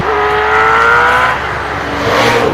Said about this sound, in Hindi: एरो में 1183 हॉर्स पावर का twin turbo V8 engine fitted है।